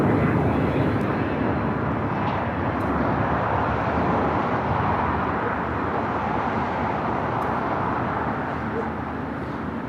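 United Airlines Boeing 787-9 Dreamliner jet airliner at Los Angeles International Airport, a broad continuous engine roar and rushing noise held at steady strength for ten seconds, with a voice talking over it.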